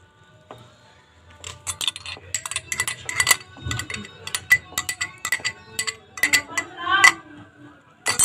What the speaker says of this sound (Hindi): अब आप इसको अच्छी तरह मिक्स कर लें।